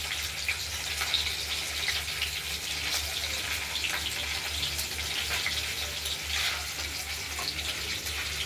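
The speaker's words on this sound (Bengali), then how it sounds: "সব পনিরগুলোকে আমরা এক এক করে ভেজে তুলব।" Paneer pieces frying in oil, a continuous close, bubbling sizzle with faint crackles and a low hum beneath, steady throughout with no speech.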